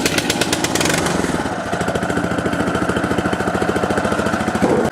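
A Muck Truck H Max power barrow engine runs close by, with a loud, rapid, regular chugging beat and some revving near the start, and no voices.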